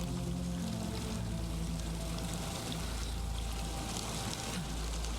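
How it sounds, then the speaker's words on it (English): Continuous roaring wash of a waterfall along a river in the survival game The Long Dark, dense and unbroken, with a faint low tonal hum beneath at the start. "There's another waterfall."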